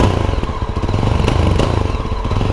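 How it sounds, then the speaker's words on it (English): A Yezdi Adventure motorcycle idles close to the microphone, its exhaust giving a loud, steady rapid thumping pulse with a slight uneven chug. "let's quickly listen to the exhaust"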